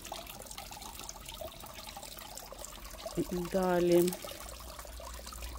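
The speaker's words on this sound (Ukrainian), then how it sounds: "Бачите такі бульбашки? Оце працює компресор." A small garden pond's air compressor bubbling the water, a soft continuous trickle and gurgle that rises briefly louder near the end, with someone speaking over it.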